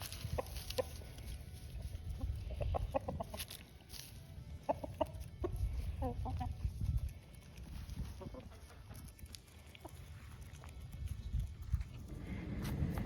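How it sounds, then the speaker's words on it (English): Chickens cluck in short bursts nearby as they gather for a snack outdoors, their calls scattered over a low background rumble with some faint footsteps and shuffling. "There's all the chickies. Look at them all coming."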